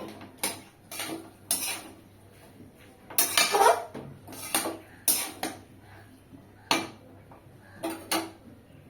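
A cooking pot of pumpkin-leaf curry is handled and lifted off a gas stove, giving a scattered series of close metallic clanks and clinks against a quiet kitchen background.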